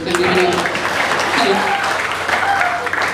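Audience applause at a stand-up comedy show during a police farewell-and-welcome event, loud sustained clapping mixed with laughter and voices talking over it.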